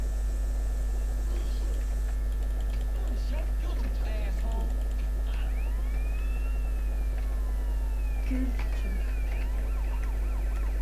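A police siren from GTA San Andreas wails through a dense, continuous game soundscape, rising and falling under steady engine and background noise, with voices talking over it.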